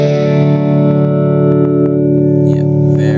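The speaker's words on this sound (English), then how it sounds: "Yeah, very gentle phaser." A sustained electric guitar chord rings loud and steady through a Blackstar ID Core 20 amp, softly swirled by a gentle phaser, with light string noise near the end.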